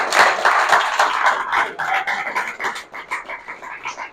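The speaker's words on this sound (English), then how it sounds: "Round of applause for Paul Williams." Audience applause at a business discussion event, a dense round of clapping from many hands that starts full and thins toward the end.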